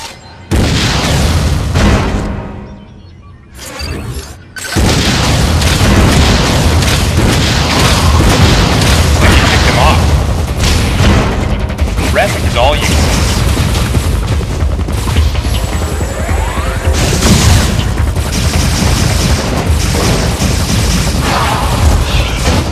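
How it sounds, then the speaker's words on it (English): Missile blasts and weapon fire from the video game Metroid: Other M: loud, dense booming explosions and gunfire-like bursts that continue almost without pause, with a brief lull near the start. "Why not say hello with a missile?"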